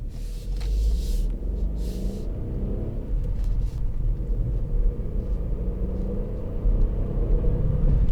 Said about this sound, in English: I struggle to get used to the sound of a 3-cylinder